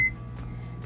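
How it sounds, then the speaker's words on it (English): A microwave oven heating a cup of plain water gives a short beep at the start, followed by a low steady hum of the running oven. "I've got 1 cup of just plain water that I'm just going to heat up in the microwave"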